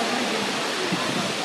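A waterfall beside a beach in Cornwall, swollen by rain, rushes in a steady, broadband roar, continuous and fairly close, with no other distinct sounds.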